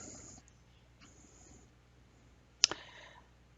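A single sharp computer mouse click, close and crisp against a quiet room background, with a faint second tick just after.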